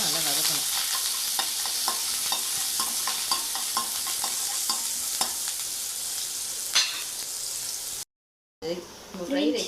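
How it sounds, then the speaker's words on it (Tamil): Chopped onion sautéing in a pan for pasta, a steady crackling sizzle with scraping stirring strokes throughout, briefly cutting out near the end before resuming with a voice speaking over it. "கட் பண்ணி வச்சு வெங்காயத்தை போட்டுக்கலாம். போட்டு அதையே நம்ம நல்லா வதக்கணும்."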